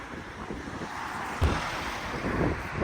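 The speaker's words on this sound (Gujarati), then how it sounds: "આજ ભાઈ પવન છે જોરદાર" Strong wind blasting against the microphone outdoors, a continuous rough roar with a sudden heavier gust partway through and no voices.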